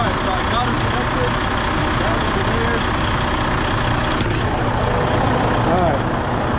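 A 2011 Freightliner truck with a DD15 diesel engine runs at a steady idle, its low continuous rumble close and filling the whole stretch.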